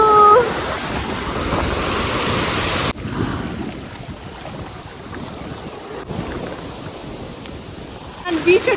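Ocean waves washing onto a beach with a continuous roar of surf, while wind gusts buffet the microphone and rumble loudly over it for most of the stretch.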